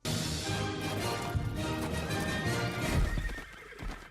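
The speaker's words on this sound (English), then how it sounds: "Henry tries to steal a horse so as not to walk" A horse neighs and snorts while hooves clop, close and fairly quiet, a short burst of whinnying over steady hoofbeats.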